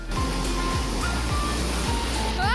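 Sea waves at Kondura beach produce a loud, constant roar of rushing water, close and unbroken throughout.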